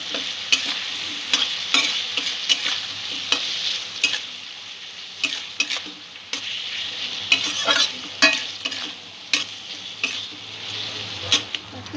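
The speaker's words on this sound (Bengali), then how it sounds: "1 চামচ আদা বাটা, মশলাগুলো ভালো করে কষিয়ে নেব।" Spices and ginger paste fry in a pan for a potato and okra curry, a lively sizzle broken by repeated scraping spatula strokes against the metal at an uneven rhythm, close and clear.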